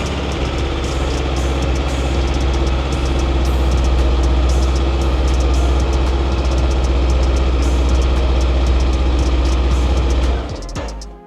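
A 2023 Honda CB500F motorcycle engine running at a steady idle, a loud, close, low throbbing rumble that holds constant for about ten seconds before shutting off.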